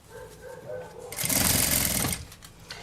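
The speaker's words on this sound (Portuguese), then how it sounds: "Passa uma costura até chegar lá do outro lado." A sewing machine runs a seam along the edge of mesh fabric for a summer bag, a loud close burst of fast stitching lasting about a second, with a voice talking before and after it.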